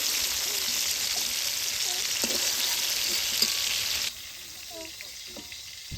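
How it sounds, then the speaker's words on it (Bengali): Slices of ridge gourd fry in hot oil with a constant close crackling sizzle and occasional stirring clicks. The sizzle drops noticeably quieter partway through. "এবার বাকি ঝিঙ্গালাও ভাজি নিব।"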